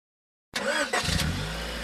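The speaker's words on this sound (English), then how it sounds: "Hey, check out my new car." A car engine starts up and revs, a sudden mid-pitched roar after a moment of silence that settles into a steady running hum, close and fairly loud.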